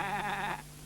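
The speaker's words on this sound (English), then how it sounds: "He hears a bleating sound." A sheep bleats once in a wavering, quavering call lasting about half a second, close and clear, then falls quiet.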